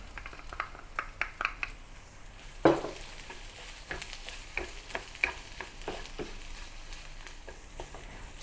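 Chopped onions sautéing in a pan for beef Madras curry, a soft steady sizzle broken by light spatula stirs and taps, one sharper knock near the middle, close but quiet, with no voices.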